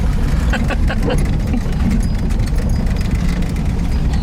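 A 1971 VW Type-3 Squareback with a 1600 engine pulls in second gear, giving a loud, steady, low engine drone throughout while a voice talks over it.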